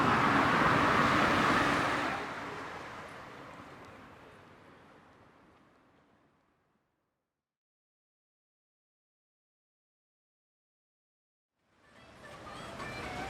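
Road traffic at a city bus stop in Jeju City, Korea, forms a broad steady rumble that fades away to silence, then swells back in.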